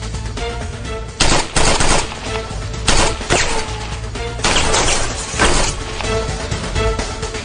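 Loud gunfire in an Urdu drama action scene, rapid automatic bursts and sharp single shots in repeated volleys across the clip, close and dominant with no talking.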